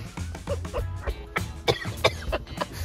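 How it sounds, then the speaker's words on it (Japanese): Several dry coughs and throat-clearing bursts come in quick succession, close and fairly loud, with no talk around them. "咳込むほど"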